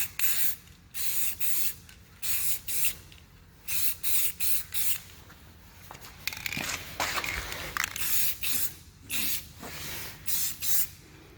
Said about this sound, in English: So I'm also gonna spray paint this kickstand.